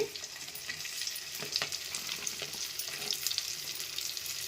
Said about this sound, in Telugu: అదే నూనెలో పొడవుగా కట్ చేసి పెట్టుకున్న ఉల్లిపాయ ముక్కలు కూడా వేసేసుకోవాలి.